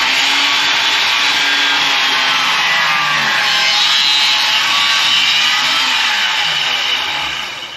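A power saw grinds steadily and loudly through wet wood with a slight crown, the blade binding and straining in a continuous rough whine for several seconds before easing off at the end.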